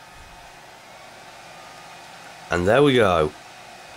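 Dell Inspiron 8000/8100 laptop cooling fans at full speed: a steady, noisy broadband whoosh like a hair dryer that runs throughout, with a brief spoken phrase near the end.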